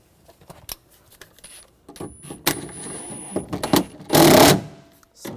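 Nuts being snugged onto the rear window regulator of a 2009-2013 BMW 328i xDrive, with clicks, metallic taps and a brief whirring burst of a power tool near the end, close and fairly loud.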